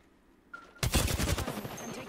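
Rapid gunfire in a 1v1 video game match, a dense burst of closely spaced shots starting abruptly after a brief quiet moment and continuing as a loud rattling volley.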